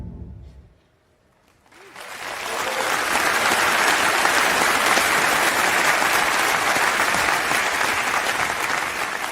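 After a brief hush, a large TED talk audience erupts into loud, sustained applause, a dense wash of clapping that swells within a second and holds steady to the end.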